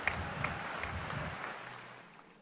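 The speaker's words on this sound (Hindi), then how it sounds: "मुझे एक बार ताली बजाकर एक बार विश्वास दिला दीजिए कि आप सुनेंगे" An audience claps during a Hindi poetry recital about Chhatrapati Sambhaji Maharaj. The applause is a faint, distant patter that thins out and fades within about two seconds.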